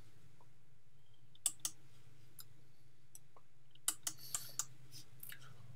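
Computer mouse clicks, two sharp close clicks followed by a quick run of four more, with soft keyboard-like taps and a low steady hum underneath, no talk.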